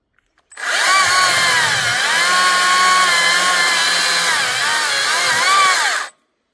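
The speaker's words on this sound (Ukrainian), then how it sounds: "Акумуляторні пилки" A STIHL MSA 60 C battery chainsaw spins up and cuts for about five seconds, a loud, steady, close electric whine with slight pitch dips under load, then stops abruptly.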